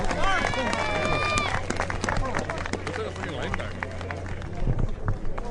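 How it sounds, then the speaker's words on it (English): A golf gallery at the first tee of the Presidents Cup in San Francisco reacts as Tiger Woods walks onto the tee box: steady murmuring crowd noise with scattered claps and whistles, dense and continuous throughout. "So that was the sound of Tiger entering the first tee box."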